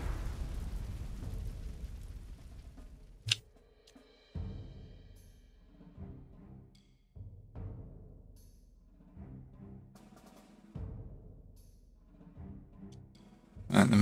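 Artillery fire and explosions from the Panzer Corps 2 strategy game, 1946 expansion: a dense rumbling barrage at the start, a single sharp crack near three seconds, then scattered dull booms and low rumbles, with a loud burst at the end.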